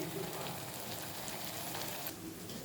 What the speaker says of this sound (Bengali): এবারে ভালো করে কষিয়ে নিই একদম সুন্দরভাবে চারদিক দিয়ে তেলটা বেরিয়ে আসলে মশলার একটা সুন্দর গন্ধ আসবে